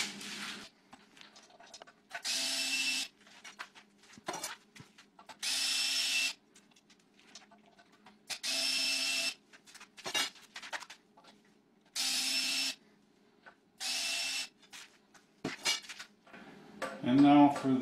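A power drill driving screws out of the angle brackets on a bio-sand water filter, running in repeated whirring bursts of a second or two with quiet gaps between them, then clinking of handled metal parts at the end.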